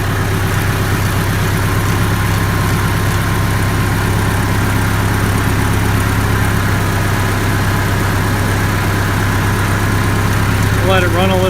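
A loud, steady Case IH 85 Series tractor engine idling up close, a continuous low rumble with constant vibration throughout.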